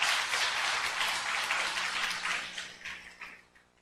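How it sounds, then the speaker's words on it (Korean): A church congregation at a Sunday worship service claps together in a moderate burst of applause that holds steady, then thins out and fades toward the end. "우리 하나님께 영광의 박수 올려드리겠습니다."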